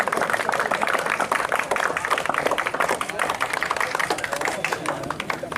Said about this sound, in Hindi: जबरदस्त तालियां बजा दो भाई।